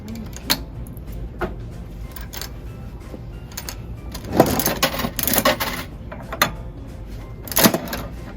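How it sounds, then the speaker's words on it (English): A toy capsule vending machine in a Dollar Tree store being worked, with scattered mechanical clicks, rattles and clunks of the crank and a capsule jammed inside, close and uneven. "I'm telling y'all, these vending machines do not like me."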